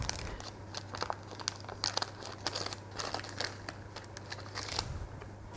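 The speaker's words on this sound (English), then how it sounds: "we'll see if we're successful in taking the paper off for you." Paper cases peel off gluten-free savoury muffins with soft, close crinkling and tearing, a series of light rustles and crackles in irregular bursts, quiet and without talk.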